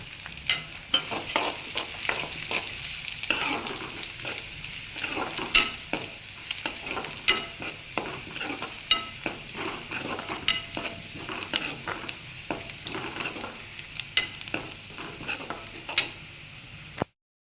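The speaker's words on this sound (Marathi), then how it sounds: "यामध्ये मी आता हे बारीक केलेलं लसूण घालत आहे" Chopped garlic frying with browned onion and curry leaves in a pan for a tangy mango-seed amti; a steady sizzle runs throughout, broken by frequent scraping stirs, close and fairly loud with no voices.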